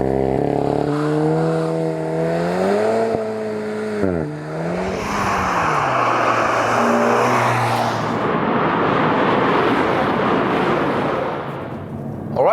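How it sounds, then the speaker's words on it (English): A Volkswagen Golf GTI TCR race car engine revs and accelerates on a track, loud and close, with rising and falling tonal sweeps through the gears before breaking into a broad roaring rush. "track time with the Golf GTI TCR, and we go to the sports mode and just give it a go"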